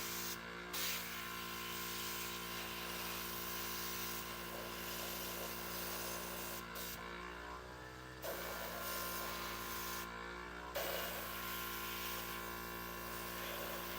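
An airbrush hisses continuously while spraying a thin dark paint wash, with two brief breaks where the air stops, over a faint background hum.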